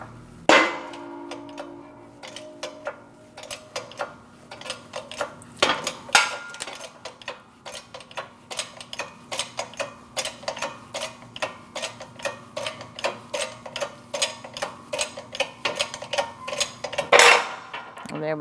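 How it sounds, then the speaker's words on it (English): A shop press pushes the wheel hub out of the steering knuckle of a 2012-2020 Chevrolet Sonic, producing a steady train of sharp metallic ticks and clicks with occasional louder clanks, close and moderately loud, with no speech. "now we're going to press the hub out of the knuckle"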